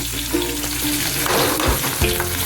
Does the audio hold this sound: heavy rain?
no